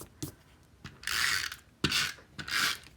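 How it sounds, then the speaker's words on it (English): A snail adhesive tape runner rolls across the back of buffalo check cardstock in several short ratcheting strokes, each a crisp, close clicking rasp separated by brief pauses. "snail adhesive to the back of this."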